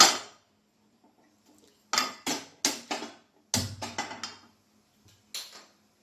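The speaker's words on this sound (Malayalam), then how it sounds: "അതിന് വേണ്ടിയിട്ട് ഒരു പാൻ അടുപ്പത്ത് വെച്ചു" A pan set down on a kitchen stove, a handful of sharp metallic clanks and clatters in irregular bursts separated by quiet gaps, close and fairly loud.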